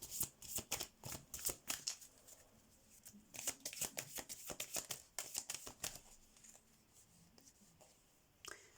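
A deck of oracle cards is shuffled close up in quick rhythmic riffles and flicks, with a brief pause partway through and a final soft snap at the end.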